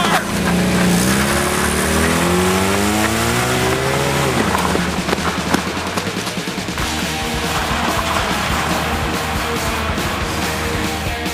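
A car speeds off with squealing, skidding tires and a revving engine, loud and close at first and then receding under a continuing rumble of traffic noise.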